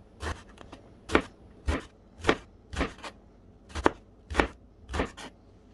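Knife chopping eggplant into small pieces on a board, eight crisp, evenly spaced strikes close by, with no voices.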